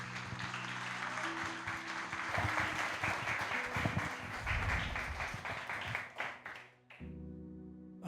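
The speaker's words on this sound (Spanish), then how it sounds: "Recibámoslo con un aplauso." Applause breaks out in a church audience, a mix of clapping that swells in the middle and then fades, with music or tones under it and a short voice as it dies away.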